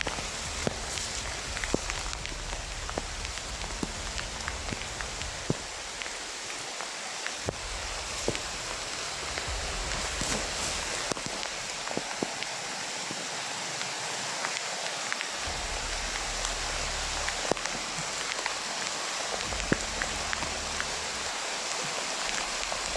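Heavy rain pours steadily and loudly for the whole stretch, a dense broadband roar with scattered sharper drops and rustles close by.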